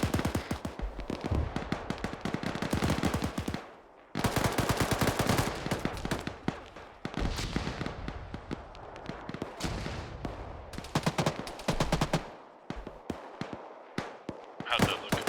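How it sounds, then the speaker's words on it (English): Gunfire in the military game Arma 3, dense bursts of rapid automatic shots and single cracks in several volleys separated by brief pauses, fairly loud, with some speech mixed in. "Shots out."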